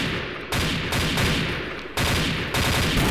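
An HK417 airsoft rifle fires in bursts during an outdoor skirmish game, rapid loud clattering volleys separated by brief pauses, close to the microphone with no voices heard.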